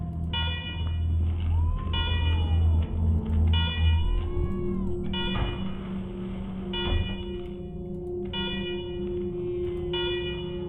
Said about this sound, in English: Alarm. I hate alarm.